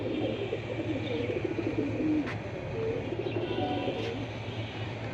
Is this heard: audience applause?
no